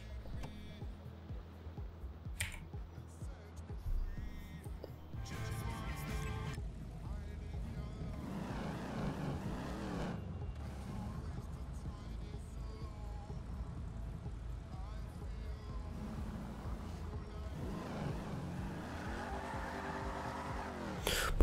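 A Ford Mustang in GTA V roleplay roars steadily as it accelerates, its engine droning loud and close for a long stretch, broken by tyre squeals and shifts in pitch.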